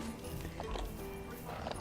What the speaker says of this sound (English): The horse just kept on going.